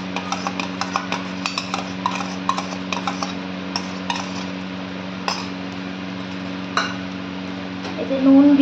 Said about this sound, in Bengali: আমি এবারে এই যে ডিম ফেটিয়ে রেখেছিলাম, 2টো ডিম, এটাকে স্ক্র্যাম্বল করে নেব